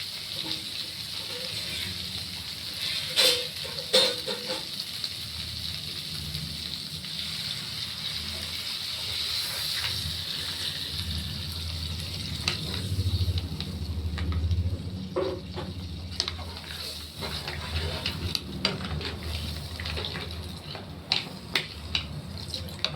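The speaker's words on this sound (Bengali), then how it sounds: "এবার আমি জল ঢেলে দেবো।" Water pours into a hot cooking pan, a steady close rushing gush with a sizzling hiss underneath, carrying on throughout with occasional clicks and knocks.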